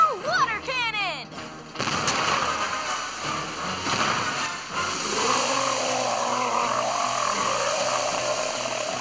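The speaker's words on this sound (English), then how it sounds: "Fire water cannon." A water cannon fires in a LEGO Jurassic World video game: a sudden heavy blast followed by a sustained roaring, hissing gush that continues steadily to the end, after a short burst of game effects.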